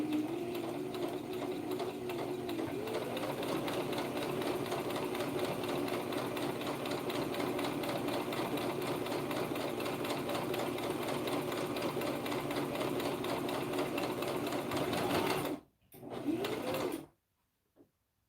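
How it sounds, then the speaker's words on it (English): A small Nex TM sewing machine stitching fabric masks, a steady close whirring hum running continuously before stopping abruptly near the end with a brief restart. "It's a little baby sewing machine, but the other one is a quality sewing machine."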